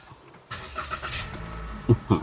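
A 2022 Toyota Veloz 1.5 engine cranks from push-button start and catches at once, settling into a steady low idle with a couple of brief louder revs near the end.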